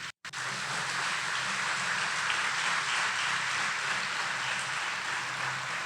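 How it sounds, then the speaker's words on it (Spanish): A church congregation applauds together in dense, sustained clapping that sounds like heavy rain, filling the room evenly after a brief silent gap at the start. "Denle un aplauso al Señor."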